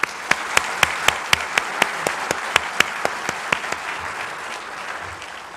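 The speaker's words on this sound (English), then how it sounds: "Please give them another round of applause." Audience at a Santa Monica State of the City chamber of commerce event gives a round of applause, with sharp individual claps standing out over a steady bed of clapping that slowly fades.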